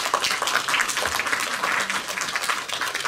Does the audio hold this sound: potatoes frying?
no